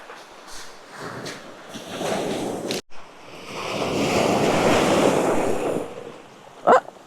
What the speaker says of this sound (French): Et tout à l'heure, il n'y avait pas autant de vent, même si la mer est toujours un peu calme.